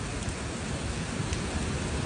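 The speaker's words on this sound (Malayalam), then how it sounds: "നല്ല അടിപൊളി മഴ, നല്ല തണുപ്പ്" Rain falls steadily in Medina as a constant wash of soft hiss, moderately quiet, with no talking over it.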